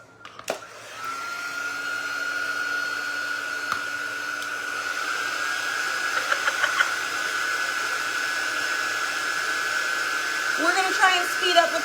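A handheld hair dryer blows steadily at close range over a painting project, a constant whooshing hum lasting throughout with a few faint knocks and shuffles near the end.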